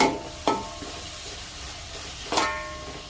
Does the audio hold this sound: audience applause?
no